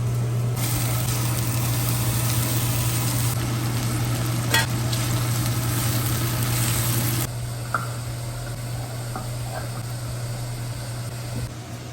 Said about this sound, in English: while green pepper is cooking